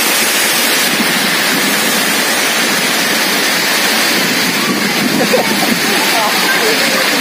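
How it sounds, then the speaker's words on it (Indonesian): Loud, dense hiss of heavy rain pouring steadily during a kite event, with faint voices mixed in beneath the downpour. "Hujan ya."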